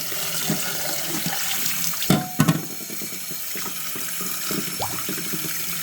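Running water rinses sea moss for a Barbados-style gel, a steady splashing flow with a few louder sloshes and clunks partway through.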